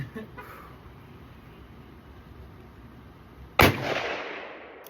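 A big bore revolver fires a single cartridge outdoors, one loud sharp blast near the end followed by a rolling echo, after quiet ambient noise with a bird clucking faintly.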